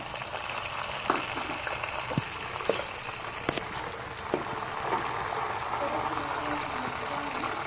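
Tomatoes go into browned onions frying in oil, giving a soft continuous sizzle and bubbling with a few light clicks and taps of a utensil, moderately quiet and without talk.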